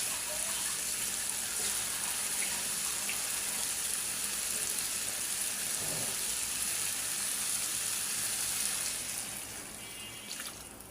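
Broth poured into a pan of frying rohu fish makes a steady watery hiss and splash, with no one talking, that eases off toward the end.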